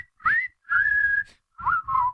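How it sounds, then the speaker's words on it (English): A tune is whistled in clear, steady phrases with short pauses between them, bright and close, with no talking over it. "Now, all together, let's whistle the song that is ready."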